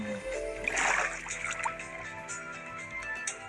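Minecraft water sound effects as water is placed: a splashing, pouring burst that swells early, then softer liquid trickles and drips under a steady background hum.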